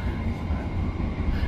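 Steady low rumble and rattle of an economy PSO passenger train running near Palmerah station, heard continuously from inside the carriage with no voices.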